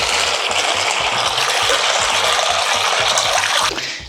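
Water gushes continuously into a bowl of chickpeas with baking soda, poured in a steady splashing stream that tapers off at the end.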